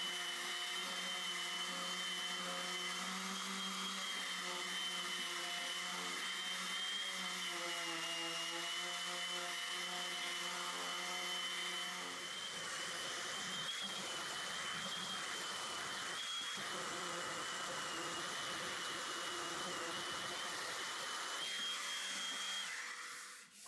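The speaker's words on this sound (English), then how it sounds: "Sand the dowels flush before sanding the rest of the plant stand smooth" A power sander works dowels flush on a softwood plant stand built from 2x3 scraps, a loud continuous whine and hum that shifts in tone midway as pressure changes, then cuts off at the end.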